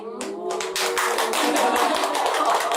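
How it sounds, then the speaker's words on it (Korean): A small audience at a Korean Osho Zen tarot lecture breaks into clapping. Distinct, closely spaced hand claps build quickly after a brief voice at the start and continue at a moderate, even level. "박수까지?"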